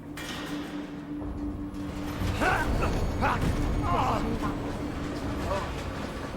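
Heavy bolts and machinery shift and grind during a cutscene in Resident Evil Village, a continuous mechanical rumble with creaks and clanks building louder midway, a voice talking over it.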